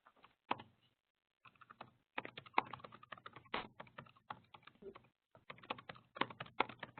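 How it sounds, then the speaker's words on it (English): Someone types on a computer keyboard during a webinar. The clicks come in quick, irregular bursts with brief pauses, sound faint and slightly distant, and no one is speaking. "it sounds like someone might be typing in another question"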